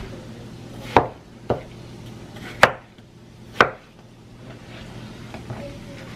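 A knife chops through fruit such as watermelon or pineapple on a cutting board, four distinct sharp chops spaced irregularly over a quiet kitchen background.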